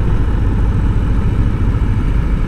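A Harley-Davidson Low Rider motorcycle rides in first gear on a highway, its engine a steady, loud low rumble throughout with no talking.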